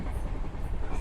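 A passenger train stands at Sangameshwar Road station, giving a steady low rumble and hum that fills the background at moderate loudness, with no clear talk on top.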